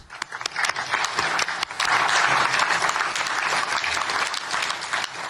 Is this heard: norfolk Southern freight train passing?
no